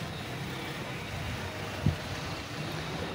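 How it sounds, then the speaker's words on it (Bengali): Floodwater surges in waves across a flooded road in front of a market after heavy rain, heard from a rickshaw as a faint, continuous washing rush with wind noise and one brief thump midway. "আর এখানে একটা একটা ঢেউ আসতেছে, মানে এত বড় বড় ঢেউ"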